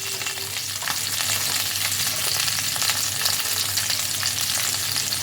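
Potatoes, cauliflower, carrots, capsicum and beans frying together in a pan for navratan korma, a loud continuous hiss and crackle with soft stirring textures, steady throughout and without speech.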